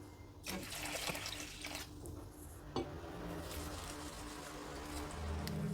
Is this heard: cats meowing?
no